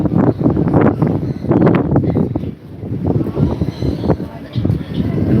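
Wind gusts steadily across an outdoor hill spot, a rough continuous roar buffeting the microphone in surging waves with brief lulls, loud and close throughout.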